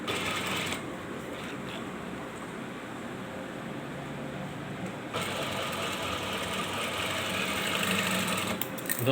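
A sewing machine runs a seam on the cuff of a men's kameez with a continuous, close mechanical whir. The sound shifts slightly partway through and holds steady to the end, with no talking.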